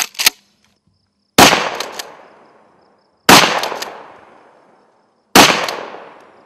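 A Remington Police Magnum 870 pump shotgun fires four loud, sharp shots, spaced about two seconds apart, each ending in a long decaying echo.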